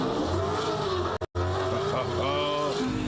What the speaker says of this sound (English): Supercar, 6-litre, 8 cylinders. Listen to this thing.